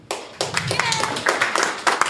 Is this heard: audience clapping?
yes